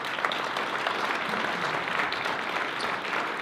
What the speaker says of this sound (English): Once again, how about a nice round of applause?